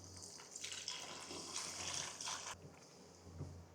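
Hot water pours onto table sugar for a lemon squash syrup, a gushing, splashing stream that swells and then stops abruptly, leaving a quiet low hum.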